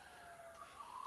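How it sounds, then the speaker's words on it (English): Faint sirens from emergency vehicles wail in the distance outdoors near a wet forest, a rising tonal whine that steadies and swells slightly toward the end over a quiet background. "And I hear sirens."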